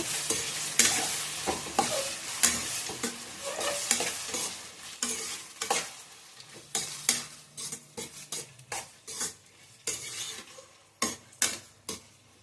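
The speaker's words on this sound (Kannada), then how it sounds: "ಟೊಮೊಟೊ ನೋಡಿ ಚೆನ್ನಾಗಿ ಫ್ರೈ ಆಗಿದೆ" Chopped tomatoes fry in a pan while being stirred, a soft sizzle broken by frequent clattering scrapes and taps of a metal spoon against the pan, close up with no voices.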